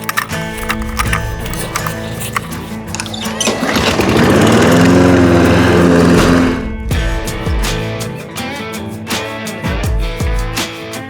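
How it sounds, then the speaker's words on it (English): A lawn mower cutting a thick lawn with its deck lowered for scalping runs loud and close, the engine labouring and swelling in the middle before easing back, with clattering alongside. "So let's lower this mower deck and get to it."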